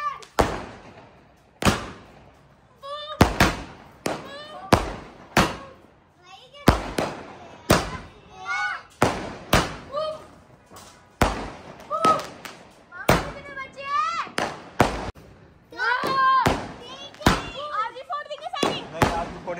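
Sky shot fireworks from a box lit during Diwali burst in a rapid irregular series of loud, sharp bangs and crackles, each followed by brief whistling and fizzing trails, continuing steadily over twenty seconds.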